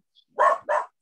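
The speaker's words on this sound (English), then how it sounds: "That's not my dog. Sorry about my dog, Bruce again." A dog barks twice in quick succession, close and fairly loud, with short sharp woofs and silence around them.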